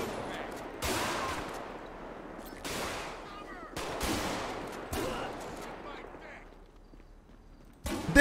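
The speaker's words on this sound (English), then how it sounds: "Somebody is tearing me up with a shotgun." Shotgun blasts in GTA 5 gameplay, several loud broadband bursts spread across the clip with a fresh blast at the very end, mixed with other game noise.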